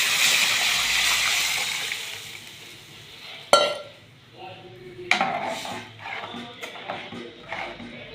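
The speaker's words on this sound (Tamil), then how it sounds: "இப்போ நம்ம கலக்கி வச்ச கலவையை ஊற்றிக்குவோம்." A liquid mixture pours into a hot pot for fish curry with a sizzling hiss that fades, followed by sharp clinks of a utensil against the pan.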